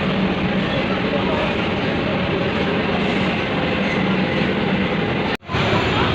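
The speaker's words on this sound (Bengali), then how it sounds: "দাঁড়িয়ে আছি মেট্রোর জন্য" A metro train rumbles steadily at a station platform with a broad, continuous roar of moving carriages, loud and close, broken by a brief sharp dropout near the end.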